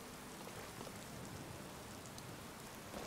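Steady rain falls in Skyrim Special Edition, a soft continuous hiss of drops spread evenly across the whole stretch, faint and unbroken with no voices.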